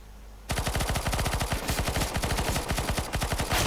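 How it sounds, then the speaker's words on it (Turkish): Automatic rifle fire in the video game CS:GO starts abruptly and continues in rapid, loud, evenly spaced bursts with brief gaps, close and dominant. "64 mermi boşalttın adama be"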